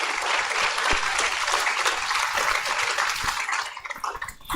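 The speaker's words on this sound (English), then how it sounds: "Let's all give ourselves a round of applause for getting here." A graduation ceremony crowd at Vieux Fort Comprehensive breaks into loud, sustained applause, a dense wash of many hands clapping that thins out toward the end.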